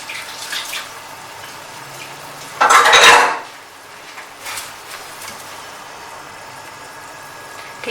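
Water dumped out at a kitchen sink with pots and pans, making a single loud splashing rush of about a second with faint metal clinks from the cookware before and after, no talking.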